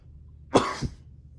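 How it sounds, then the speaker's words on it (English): A single short cough, quiet and close, followed by a brief second burst, against faint background hum. "Coughing because I'm tired of this video."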